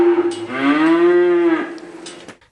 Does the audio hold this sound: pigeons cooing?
no